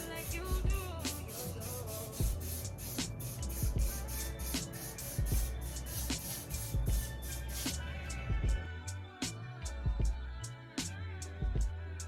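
Wig adhesive hisses from a spray bottle in repeated short bursts, close up and fairly quiet, with brief rubbing and handling noises between the sprays.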